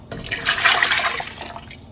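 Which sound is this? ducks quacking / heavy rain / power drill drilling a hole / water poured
water poured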